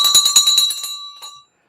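A stock market closing bell rings loud and close in a rapid run of metallic strikes, then slows, rings once more and fades to silence.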